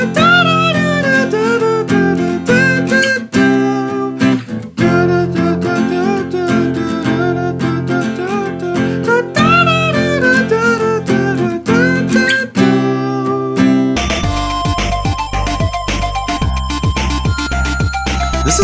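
The Round 5-1 theme from the Ristar video game plays as continuous bright chiptune-style music with bouncy melodic lines over steady F major harmony and occasional C major turns, shifting to a denser, busier texture near the end.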